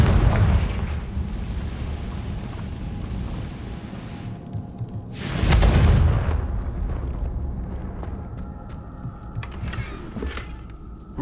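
Confringo fire spell explosions in Hogwarts Legacy: a rumbling blast at the start, then a sharp, loud burst around the middle that decays into a low roar, followed by quieter crackles.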